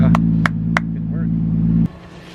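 A Lexus GS300 sleeper with a 2JZ-GTE engine and a less restrictive exhaust holds a loud, steady droning rev, then cuts off abruptly near the end. A few short sharp sounds punctuate the drone.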